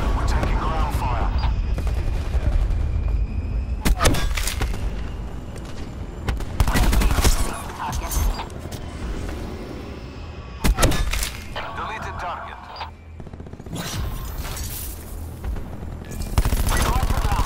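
Gunfire in a video game crackles in repeated bursts and single booming shots, some rapid like machine-gun fire, with a voice talking between and over the shots.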